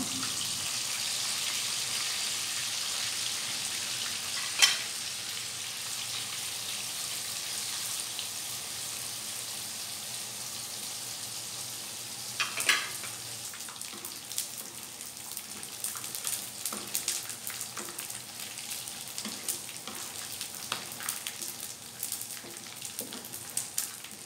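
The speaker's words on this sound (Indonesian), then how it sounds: "Sekarang aku goreng terinya sampai matang." Anchovies (teri) frying in a pan for sambal, a steady soft crackling sizzle that runs continuously with a few sharper pops, close and fairly quiet, with no voices.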